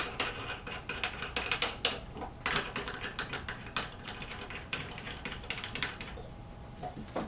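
Stabilizing base being screwed onto a Mafell DDF 40 doweller, heard as a run of quiet close ratcheting clicks and small plastic-and-metal taps, irregular and fading toward the end.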